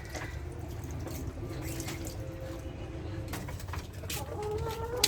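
Chickens on a poultry farm give soft, scattered clucks and bird calls at a distance, faint over a low background hum, with no clear talk.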